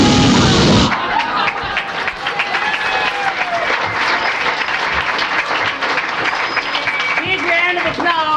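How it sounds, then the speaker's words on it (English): After a brief loud opening burst, a crowd claps and cheers steadily for a performer at a Texas tall-tale storytelling competition, with voices mixed into the applause. "Big round of applause for Bertha Faye Nation."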